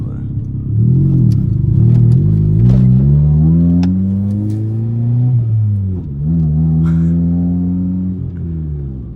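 A 1995 Honda Del Sol with a big turbo and no muffler revs loudly and close up, its harsh, raspy engine note climbing and falling through several gear-like sweeps before easing off and pulling again.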